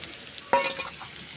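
Food sizzling in a pan, with a sudden louder hiss and clatter of stirring, then a steady soft crackle.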